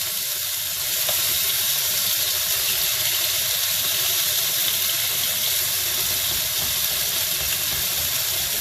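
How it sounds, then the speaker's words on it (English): Beef searing in a hot pan for fried beef with egg noodles, a loud, steady hiss of sizzling that swells after the first second and holds without letting up. "try and sear the beef as much as you can"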